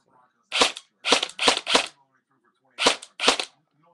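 Close, crisp bursts from a Dboys SCAR airsoft gun with a Matrix 3000 motor and Matrix Tornado speed gearbox on a 9.6 V battery: a cluster of four rapid cycling bursts, a pause, then two more.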